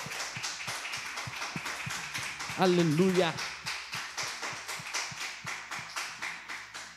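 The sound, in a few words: applause in church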